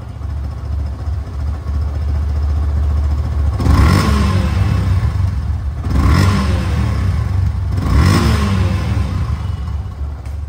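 A 2023 Yamaha FZ-2 motorcycle with 2,700 km on it runs through its silencer, a steady low idle punctuated by three short throttle blips that swell and fall back, heard up close with nobody speaking.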